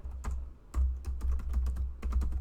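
Steady close typing on a computer keyboard, with quick irregular key clicks over a low background hum.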